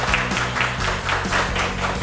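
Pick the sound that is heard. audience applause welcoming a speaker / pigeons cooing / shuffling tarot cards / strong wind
audience applause welcoming a speaker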